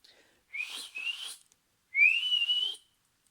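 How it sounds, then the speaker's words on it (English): A person whistles to call a sheepdog: two short rising whistle blasts, then a longer, louder one after a pause, clear and close against silence. "The whistle came again, much louder."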